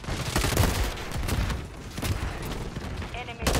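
Rapid gunfire from a video game, dense bursts running almost continuously at close range, with players talking over the shooting.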